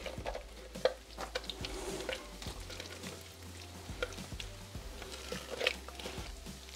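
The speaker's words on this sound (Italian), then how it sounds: "Adesso versiamo le verdure." Cooked vegetables spill and slide onto pricked shortcrust pastry in a Thermomix savoury tart preparation, soft wet shuffling and scattered light taps nearby, quiet and without voices.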